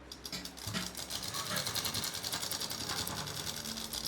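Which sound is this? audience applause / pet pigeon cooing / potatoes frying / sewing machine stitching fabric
sewing machine stitching fabric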